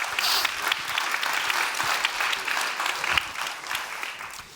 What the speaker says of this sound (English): Let's give the judges another round of applause as they go.